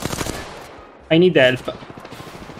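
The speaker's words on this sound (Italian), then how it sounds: "Stanno sparando." Apex Legends gunfire erupts in two sharp, loud bursts of rapid automatic shots in the middle, with a person talking before and after the shooting.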